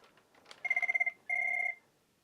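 A Cisco IP phone rings for an incoming call in two close electronic bursts. The first is a pulsing warble and the second a steadier tone, with faint clicks before them and a quiet room around.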